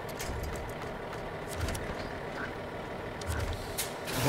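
Heavy truck straining on a winch in the off-road game SnowRunner, with a steady low engine rumble, hissing air-brake-like bursts and faint mechanical clanks, fairly quiet throughout with no talk.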